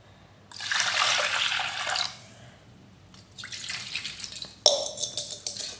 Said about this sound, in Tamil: அரை லிட்ரு தண்ணி ஊற்றிடலாம்.